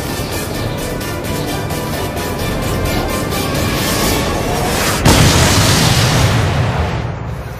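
A missile strike explosion recorded from a military drone, a sudden loud burst of noise with a sharp onset that swells into sustained roaring rumble before tapering off near the end.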